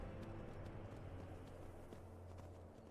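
Horse hooves trotting in the video game Skyrim, a steady, muffled clip-clop rhythm over a continuous low rumble, with no voices.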